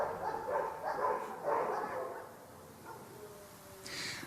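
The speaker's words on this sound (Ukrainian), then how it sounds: "Партнери з Нідерландів передали десяток вівчарок на службу у Київській області." Shepherd dogs donated from the Netherlands for service in Kyiv region bark in a short run of close yips and woofs, followed by quieter whimpering and background noise.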